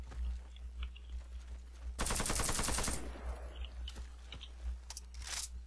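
Rifle fire in the first-person shooter Warface, a single sustained automatic burst of rapid shots lasting about a second, framed by quieter scattered clicks and a low steady background hum.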